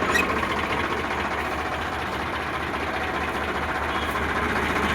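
A 2011 Sonalika DI 60 RX tractor idles close by with a steady, even diesel rumble that holds the same level throughout, alone without speech.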